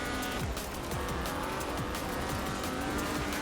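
Ford RS 1800 rally car driven hard in Forza Horizon 4, its engine droning loud and close with steady revving, gear changes and tyre squeal, no voices over it.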